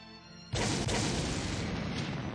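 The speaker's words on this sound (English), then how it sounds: "The ensuing explosions of countless Panzerfausts and mines sent Sakurai flying." Explosions of countless Panzerfausts and mines in the visual novel game Dies Irae ~Amantes Amentes~ erupt suddenly after a quiet moment into a loud, dense, sustained roar of blasts and rumble.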